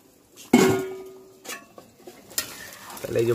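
Fried bhola fish is poured into a thin village-style curry, landing with a sudden loud splash and sizzle, followed by a few clinks and scrapes of utensils against the pot.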